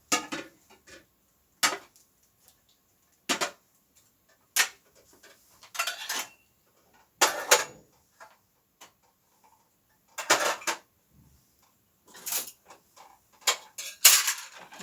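Washed dishes and coffee cups being stacked, giving scattered sharp clinks and clatters of ceramic and metal at irregular intervals, close by in a quiet kitchen.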